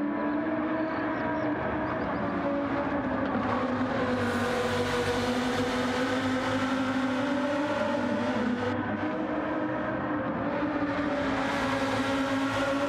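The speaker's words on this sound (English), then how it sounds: "You can hear the cars coming through the hairpin in the background." Lamborghini race car engines in a sim racing game drone and shift pitch as cars brake and accelerate through a tight hairpin at Autopolis, a continuous layered whine with no one speaking.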